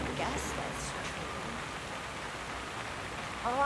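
Steady rain falls at night in Hitman 3, a soft continuous hiss of drops on surfaces, with faint voices in the background.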